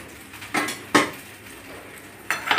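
A metal ladle or spoon clinks against a pot and dish while mutton nahari is served out, three sharp close scraping knocks spaced apart over a quiet background.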